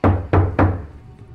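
Three firm knocks on a door, evenly spaced and close, each a dull thud that dies away quickly.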